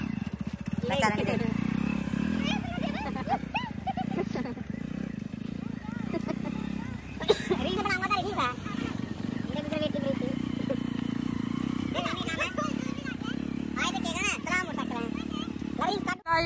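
A motorcycle engine revving in a village farm setting, a steady low drone with throttle surges, while people talk and shout over it close by throughout.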